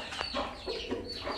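Hens of a Pakistani backyard flock, including Aseel birds, cluck in short, close, repeated bursts that overlap over a faint farmyard background.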